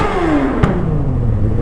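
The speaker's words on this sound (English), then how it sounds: "We'll give it a couple revs there." A loud, tuned Suzuki GSX-R600 sport motorcycle engine revs up and drops back in a tunnel, its pitch sliding down, with a sharp pop partway through and steady road rumble.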